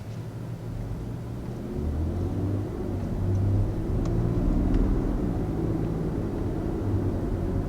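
A 2021 Lexus RX 350 F-Sport engine hums steadily from inside the vehicle, a low droning rumble that rises slightly in pitch as it revs and then settles.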